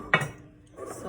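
A small pan is lifted and set down in a home kitchen, a sharp metallic clank followed by a brief softer rattle of cookware, close and fairly quiet.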